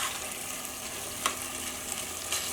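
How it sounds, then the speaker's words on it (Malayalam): Boiling water is poured into a sizzling pressure-cooker chicken curry, giving a steady close hiss and sizzle throughout with a couple of brief louder splashes, and no voices. "വെള്ളം ചേർക്കുമ്പോൾ നല്ല തിളച്ച വെള്ളം ചേർക്കാം."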